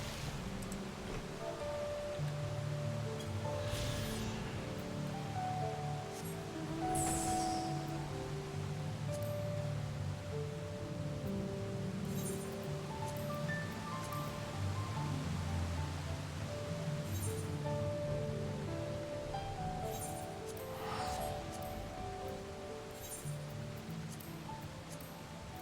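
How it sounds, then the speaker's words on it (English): A waterfall rushes in an online role-playing game, a steady broadband roar that holds at an even level the whole way through, with faint game chimes and tones layered over it. "It's this waterfall."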